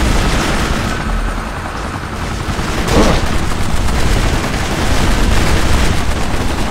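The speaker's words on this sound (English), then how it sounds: "Take that, helicopter." Gunfire and a helicopter in the shooter video game Kane & Lynch: Dead Men, loud continuous rumble with bursts of shots and a heavy boom near the middle, with no voices.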